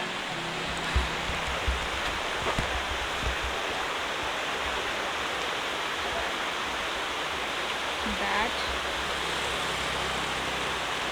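A steady, loud roar of falling water fills the whole stretch, dense and unbroken like a broad waterfall heard up close, in Rishikesh.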